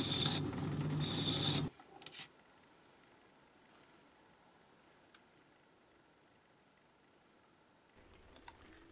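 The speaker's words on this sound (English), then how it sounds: "using a file, a neat chamfer was formed on the ends" A hand file cuts a chamfer on the end of a silver steel axle shaft, giving a loud, rapid rasping that runs for under two seconds, then a couple of short scrapes, followed by near silence.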